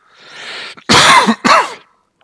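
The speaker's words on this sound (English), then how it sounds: "I'm going to cough a little bit in the video. I just have a sore throat" A man with a sore throat clears his throat with a breathy rasp, then gives two loud, harsh coughs close up, each short and separated by a brief gap.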